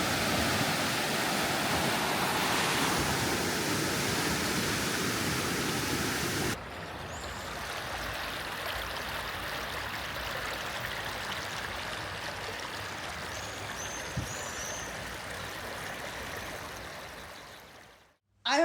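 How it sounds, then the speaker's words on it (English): Rushing meltwater from Swiss Alpine waterfalls, a steady broadband roar that drops to a quieter, more distant wash partway through, with faint birdsong above it. "It's all the melted ice coming down. Look at all those waterfalls."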